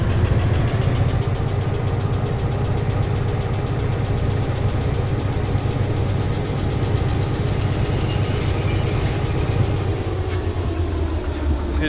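In the Derail Valley train simulator game, a locomotive speeds up with a loud continuous engine rumble and rolling rail noise, steady and close throughout.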